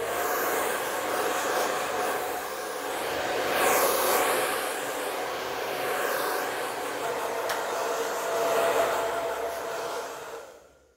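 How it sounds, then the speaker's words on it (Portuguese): Hair dryer blowing steadily while a barber cleans up a taper haircut at the nape, a continuous close airy whoosh with slight swells in pitch as it moves, cutting off at the end. "Bate um secador aqui para limpar bem."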